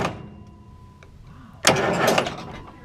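An old 4-150 engine's starter kicks in after a quiet moment with a faint click, giving a short, loud, close whirring crank lasting about a second.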